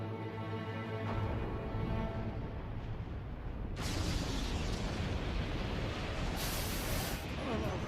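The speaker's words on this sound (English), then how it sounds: "The explosion's starting." Video game explosion: a low rumble builds, then bursts into a loud, sustained roaring blast with a second surge near the end, filling the soundscape without speech.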